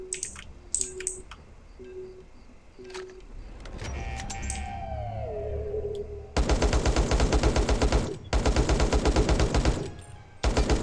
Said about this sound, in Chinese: 那我们试试看用塔沃尔打